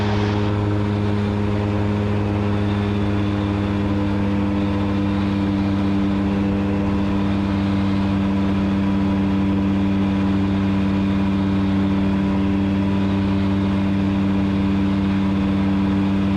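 Seaplane engine and propeller drone steadily in flight, a loud continuous hum with strong low tonal bands and no break across the whole stretch.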